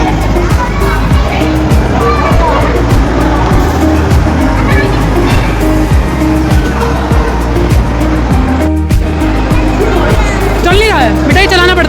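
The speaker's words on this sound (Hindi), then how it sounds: "Bike ride." Arcade motorbike racing game in a shopping mall play zone, blaring loud continuous engine roars, tire squeals and skids with game music, under a busy crowd and nearby voices.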